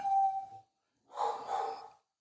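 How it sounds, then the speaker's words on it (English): A dog gives two or three close, fairly loud barks after a short tonal sound, with silence between them. "My dog's barking."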